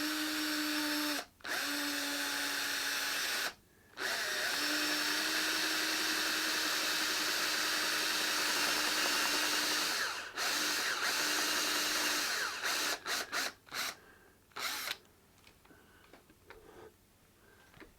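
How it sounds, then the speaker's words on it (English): Power drill boring a hole in a guitar cover plate, a loud steady motor whine in long runs broken by brief pauses, then short stuttering bursts as the bit finishes the cut. "very carefully place your drill bit on your cover plate and start drilling that hole"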